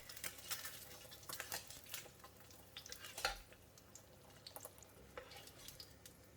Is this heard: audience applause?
no